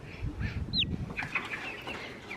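Cornish cross chickens clucking and peeping inside a brooder, a busy cluster of close calls with a sharp high chirp near the start and softer chatter continuing throughout.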